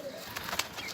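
A pigeon in a loft gives a short, soft coo, heard faintly in a single brief burst without speech.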